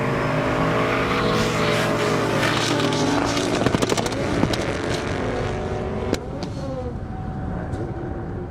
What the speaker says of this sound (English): That beautiful Factory 5 replica coming back